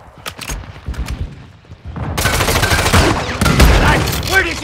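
Bursts of gunfire in the mobile shooter Call of Duty: Warzone Mobile, a quieter opening that swells into dense, sustained firing and game effects with speech mixed in.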